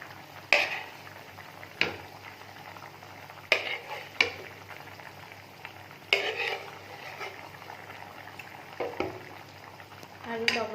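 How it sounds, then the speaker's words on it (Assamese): Fish pieces dropped into a pot of boiling water for a fish curry with raw mango and jackfruit seeds, a low bubbling simmer punctuated by several sharp utensil clinks and splashes at irregular intervals, close by. "এয়া ভালদৰে উতল আহিছে। আমি এতিয়া তাতে মাছ কেইপিস দি দিম।"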